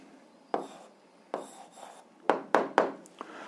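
Pen or chalk scratching out an answer to an algebra exercise, several short strokes and taps in quick succession, close and fairly quiet.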